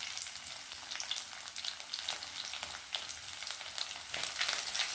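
Chopped garlic frying in oil for a bitter gourd curry, a steady bright sizzle with crackling pops throughout and no voices.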